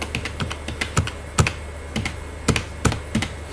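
Close, crisp keystrokes on a computer keyboard typing ten characters, about a dozen distinct taps in an uneven rhythm, a few landing harder than others, with no voices.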